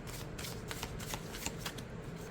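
An oracle card deck is shuffled overhand, giving quiet, close, rapid papery riffles and slides in a continuous soft rhythm.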